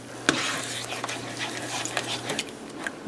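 Eggs are beaten together in a bowl for breakfast burritos, with brisk, close stirring and scraping that runs for a few seconds behind a faint low hum.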